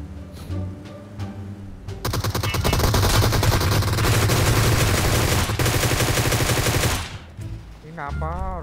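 Rapid automatic gunfire from a T3 rifle in the battle-royale game PUBG Mobile, a loud, dense burst lasting several seconds after a quieter opening, cutting off abruptly, with game ambience and a voice-like tone trailing at the end.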